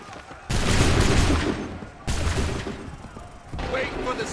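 Musket volleys in Assassin's Creed III, three loud, abrupt bursts of massed gunfire, each crackling on and fading before the next, with shouting voices mixed in.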